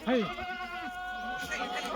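Kathiawadi goats bleat in a shed, one wavering call up close at the start with fainter bleats following, while people talk in the background.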